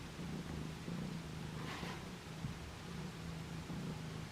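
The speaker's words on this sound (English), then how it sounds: "Oh, she's purring so loud." A small cat purrs steadily and close by, a low continuous rumble with soft rhythmic pulses throughout, set against a faint hiss of background noise.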